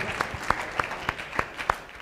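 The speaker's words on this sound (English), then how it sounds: "let's give another round of applause for you for Yes. doing such a great job today." A short round of applause from a small group, with sharp individual claps landing at a quick, fairly regular pace over a couple of seconds.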